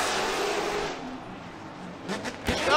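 A drift car in a Formula Drift battle spins out: a loud, close engine and tire roar fades quickly, then brief engine revs and a sharp thump follow.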